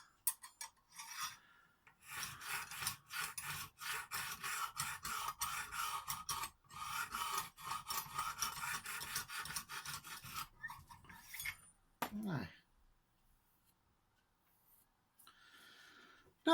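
A Lansky sharpener rasps along the blade of a Stedemon A01A knife of CTS 204P steel. Dense, rapid back-and-forth strokes run for about ten seconds after a few brief scrapes, then fall to near silence.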